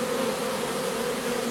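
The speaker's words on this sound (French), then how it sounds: "les abeilles sont en train de rentrer tranquillement dans la ruche" A swarm of bees returning quietly into a hive, their steady, continuous buzzing hum close and even throughout, with no voices.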